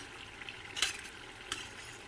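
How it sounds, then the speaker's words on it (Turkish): Quiet sizzling of filled yufka (thin pastry) dessert pieces frying in oil, with a couple of brief crackling pops and faint stirring. "Ve bu şekilde kızartıyoruz."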